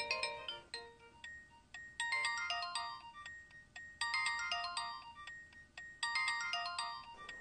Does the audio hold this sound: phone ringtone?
yes